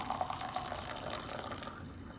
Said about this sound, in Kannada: ಇಲ್ಲಿ ನಾನು ಕಾಫಿ ಮಾಡ್ಕೊಂಡಿರೋದನ್ನೇ ಹಾಕ್ತಾಯಿದ್ದೀನಿ.